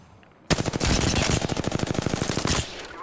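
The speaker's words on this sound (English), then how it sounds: "Getting shot at." A single sustained burst of rapid automatic gunfire in the video game Apex Legends, loud and close, lasting about two seconds with sharp, evenly spaced shots before cutting off.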